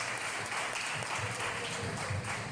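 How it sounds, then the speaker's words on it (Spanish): Audience applause at a Lenten church retreat in San Román, a steady broad wash of clapping that fills the whole stretch at an even, sustained level. "vamos a darle un fuerte aplauso"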